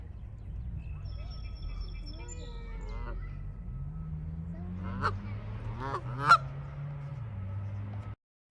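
Geese honk and goslings peep nearby at McConnell Springs in Lexington, Kentucky, in a sequence of nasal calls and high chirps, with a low hum of wind or traffic underneath.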